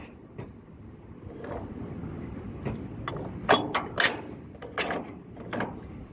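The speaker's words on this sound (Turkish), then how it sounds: "gevşetiyoruz ve kilidimizi bu şekilde kilitleyip sadece boşluğunu alıyoruz." Container twist lock being turned and locked, giving a series of sharp metallic clicks and clanks over a low background rumble, close by and moderately loud.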